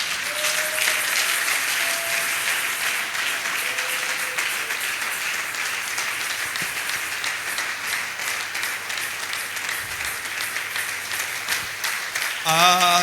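Sustained applause and cheering from a church congregation acclaiming Jesus, a dense, steady wash of clapping filling the room for several seconds, with a brief voice and tone near the end.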